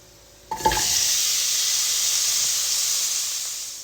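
Vegetables tipped into hot oil with garlic burst into a loud, steady sizzle that starts abruptly after a brief clatter, then hisses on close up and slowly softens.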